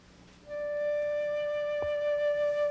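One clear, sustained flute note from a solo orchestral flutist sounds alone after a soft start and holds steady for over two seconds.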